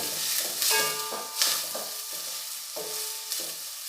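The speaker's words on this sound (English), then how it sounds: "add onion, 2 chopped medium, keep the flame on medium." Chopped onions fry in oil on a medium flame for patal bhaji, sizzling softly under repeated clinking, scraping stirs of a utensil against the pan at an uneven pace, close and quiet, without speech.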